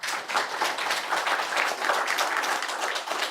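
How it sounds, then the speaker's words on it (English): A room full of people clapping steadily, a moderate round of applause that holds evenly for a few seconds. "Let's give a big applause to"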